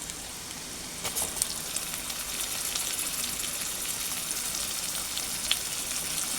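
Ground bottle gourd leaf paste hits hot oil with lightly browned onions, giving a steady, even sizzle with a few brief crackles and no talking.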